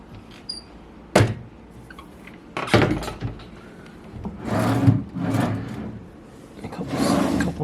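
Wooden drawers are slid and bumped several times, sharp thunks followed by longer scraping slides, close by in a quiet room.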